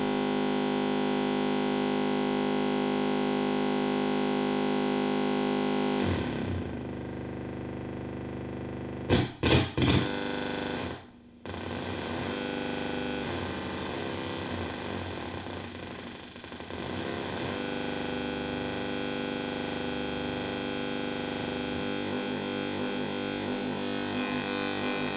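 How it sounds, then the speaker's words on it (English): A triangle wave run through a homemade voltage controlled amplifier circuit, a sustained buzzy distorted synth tone that shifts character midway, with brief stutters and a short dropout before a steady drone resumes, no talk. "So now I'm going to put a different triangle wave in."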